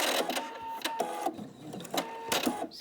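Sewing machine running across a fabric piece in short, close bursts, a busy rattling whir with rhythmic surges and no talking.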